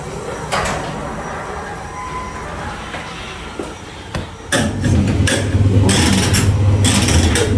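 A home garage door rumbles shut, starting with a few knocks and clunks, then a loud, steady mechanical rolling rattle that grows closer and fuller toward the end, with no voices.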